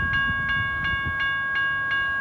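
A three-locomotive train with a switcher engine passes a rail crossing in Walton, its steady horn or bell tones ringing in a regular pulse over low rumbling track noise.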